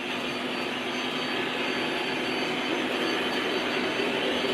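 A Lionel or MTH O-gauge Dash 8 model locomotive runs continuously on its track, giving a steady, dense rolling rumble and whir with faint metallic wheel squeal throughout and no talk.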